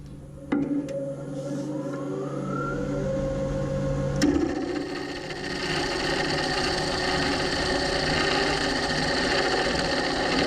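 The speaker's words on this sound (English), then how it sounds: "Now, maybe some attention with a little spiraling texturing tool." A spiraling texturing tool bites into a small cherry wood hollow form spinning on a lathe, giving a steady, close grinding buzz that starts after a brief motor hum and continues unbroken.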